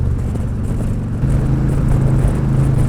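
A Harley motorcycle engine runs steadily while being shifted into fifth gear, a close, throaty rumble that deepens and strengthens slightly partway through.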